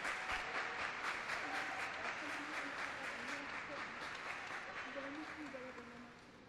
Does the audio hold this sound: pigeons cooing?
no